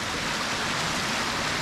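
A stream flows nearby on a morning walk outdoors, a constant loud broadband rush with no breaks and no voices.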